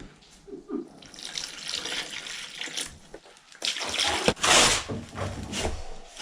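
Water runs and splashes from a tap or hose at a Portugal renovation site where walls are being wetted down, coming in uneven bursts with brief pauses and a loud surge near the end.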